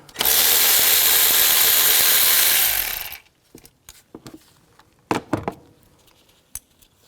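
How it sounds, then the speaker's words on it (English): A 10mm socket on a ratchet working a bolt out of a bracket on a 2003-08 Nissan Maxima: a loud, sustained buzzing power-tool run for about three seconds, followed by scattered metallic clicks and clanks of the tool and bolt. "Take a 10mm socket, take this bolt out of this bracket right here."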